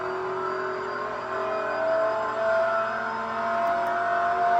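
Lamborghini Huracan GT3 race car engine, a steady droning hum with a sustained whine, heard from inside the car and rising slightly in loudness.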